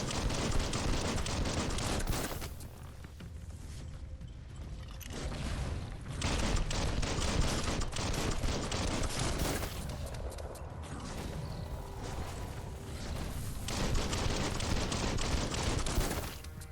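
Rapid, repeated gunfire from the video game Biomutant, a dense run of loud bursts that continues across the stretch and eases briefly twice before picking up again, with mechanical clanks mixed in.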